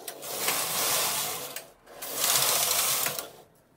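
A Silver Reed knitting machine with an LC2 lace carriage makes a steady mechanical whirring rattle in two sweeping passes, each swelling and fading as the carriage moves across the needle bed.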